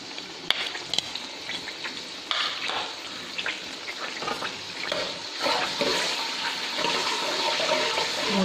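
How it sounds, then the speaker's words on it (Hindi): Ginger garlic paste frying in a cup of oil in a karahi for mutton karahi, a loud, steady hiss with scattered crackles and pops that holds from start to finish, with no talking. "अब इसमें ये डालेंगे अदरक लहसुन का पेस्ट डालेंगे"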